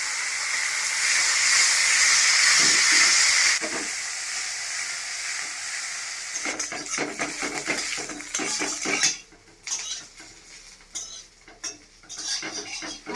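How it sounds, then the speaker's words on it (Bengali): Bitter gourd frying in oil in a pan for a Bengali fish-head curry, a bright steady sizzle at first, then broken by repeated clinks and scrapes of a utensil stirring against the pan. "করলাটা আমি এখন ভালো করে ভেজে নেব"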